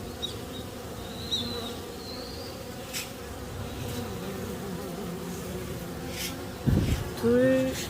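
Honeybees buzz steadily around beehives, a close, continuous hum with passing individual bees, joined near the end by a brief louder burst and a person speaking.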